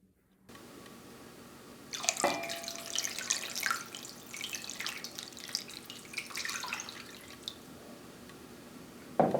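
Water is poured into a pot holding soaked beef brisket, making a steady close splashing and trickling stream that runs for several seconds and tapers near the end.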